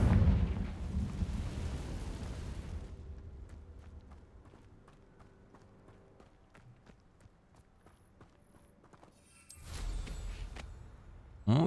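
Confringo blasting spell in Hogwarts Legacy: a loud booming explosion that rumbles and fades over a few seconds, followed by quieter game ambience and clicks, then a second burst of noisy impact near the end.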